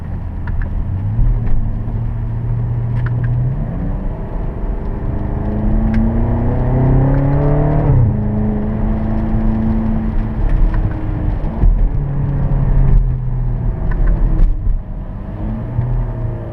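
A 2012 BMW X5M engine drops down through the gears, its droning note stepping up and falling several times with each downshift, heard from inside the cabin over steady road rumble.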